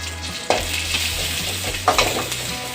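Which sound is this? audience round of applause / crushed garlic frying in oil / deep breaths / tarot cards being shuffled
crushed garlic frying in oil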